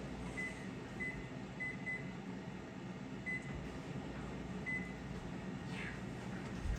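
A microwave oven hums quietly and steadily while its timer gives several short, evenly pitched beeps at irregular intervals.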